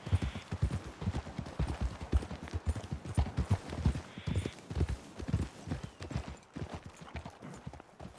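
Horses trotting along a road in the video game Red Dead Redemption 2, a loud, close, steady clip-clop of hooves with overlapping rhythmic strikes and no talk.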